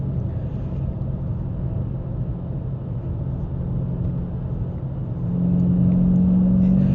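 A car under 500 horsepower drives through corners, its engine a steady low rumble with road noise from inside the cabin, the tone rising and droning louder near the end as the throttle is rolled on.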